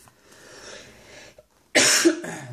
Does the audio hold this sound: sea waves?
no